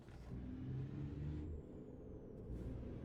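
Truck engine in the video game American Truck Simulator, running without a trailer and pulling away fast, a steady loud low rumble throughout with a faint high whine, no talking.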